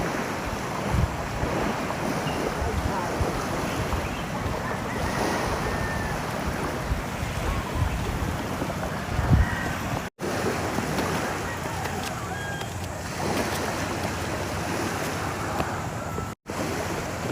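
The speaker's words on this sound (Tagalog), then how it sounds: "Taib ang dagat. High tide." Sea waves rolling in at high tide along a beach, a continuous loud wash of surf mixed with heavy wind buffeting the microphone, with brief dropouts.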